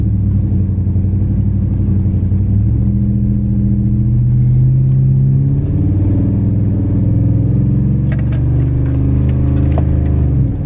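A Ram truck with a swapped 8-speed automatic and a 4,000 stall converter: its engine drones loud and close, a steady revving rumble whose pitch shifts as the transmission hunts and downshifts, with no talking.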